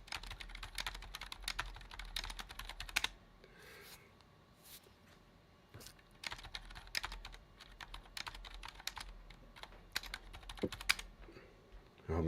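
Password being typed on a computer keyboard, a quick run of close key clicks with short pauses between bursts, alone with no talking.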